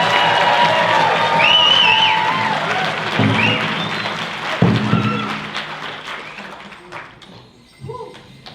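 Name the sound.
applause for the Hill Creek drum group at a powwow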